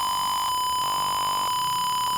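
An Arduino Uno parking sensor's buzzer sounds a continuous, steady electronic tone close by, with slight shifts in level but no break, alone without voices.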